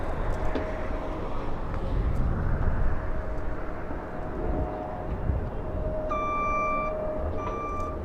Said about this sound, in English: A little bit of a drag race here with Delta Airlines on taxiway Delta and Air Premia.